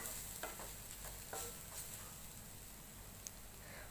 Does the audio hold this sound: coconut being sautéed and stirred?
yes